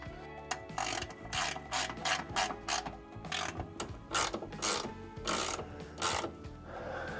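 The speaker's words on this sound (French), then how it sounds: "Je remets l'écrou et je serre." A ratchet tightens the nut on a suspension eccentric bolt of a Mazda Miata being fitted with new coilovers, giving loud, close, rapid pawl clicks in quick bursts with brief pauses between them.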